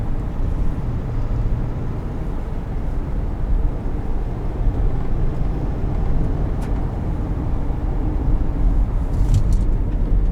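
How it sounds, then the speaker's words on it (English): A car reverses down a street, heard as a loud, steady engine and road rumble that stays constant throughout, with only a faint high click near the end; no talking. "just some guy reversing down the street"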